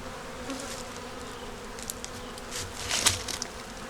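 Honeybees buzzing around an open hive frame holding brood and larvae, a continuous soft hum with individual bees droning closer now and then.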